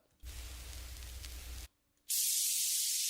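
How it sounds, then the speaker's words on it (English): Bursts of bright hissing noise: a long steady hiss, a brief silence, then a louder, sharper hiss cutting in at the end. "white noise riser."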